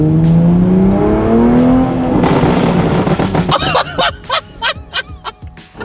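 2020 Toyota Supra with a new downpipe accelerating hard, engine pitch climbing through a gear before loud, rapid popping and crackling bursts, close and aggressive, with brief laughter.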